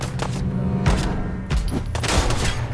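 Fallout London combat with repeated gunshots and heavy thumping impacts, several distinct loud bursts spaced irregularly over a few seconds amid continuous battle noise.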